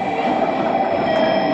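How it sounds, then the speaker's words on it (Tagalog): A train pulls into a station on the line toward Kumamoto, with a loud, steady rumble of wheels on rails and a faint high squeal near the end, close by and with no talk. "We'll wait for the train to arrive here at going to Kumamoto."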